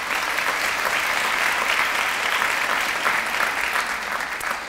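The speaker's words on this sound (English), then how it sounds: "we are going to give a huge round of applause to our sponsors" A large crowd at an employee recognition banquet applauds steadily, dense clapping filling the room at full volume, tapering slightly at the end.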